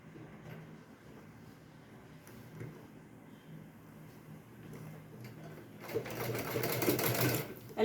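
A sewing machine stitches cloth over elastic on palazzo pants, a quiet close rapid ticking run that turns louder and faster near the end, with someone talking softly over it.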